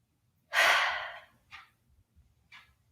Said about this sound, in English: take a nice, deep, intentional breath